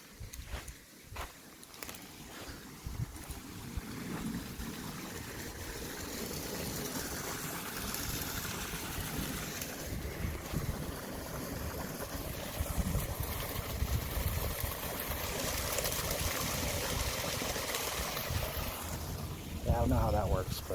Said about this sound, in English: But I can hear water running on the other side, which means it must go underground or something.